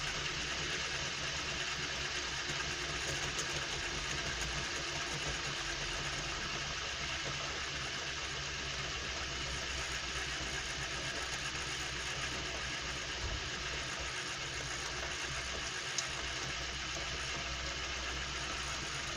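A small electric motor powered by a single battery runs continuously with an even, faint whirring hum and no change in speed throughout.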